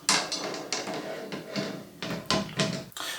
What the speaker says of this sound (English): Then you want to put the rim back on.